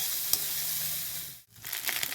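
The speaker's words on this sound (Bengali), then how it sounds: "এই যে এবার এটা ভাতটার সঙ্গে আমরা ভালো করে একটু মিশিয়ে নেব" Rice sizzles and crackles in a hot pan as it is stirred together with onion and egg, a steady close hiss broken by a brief pause, then scraping and frying resume.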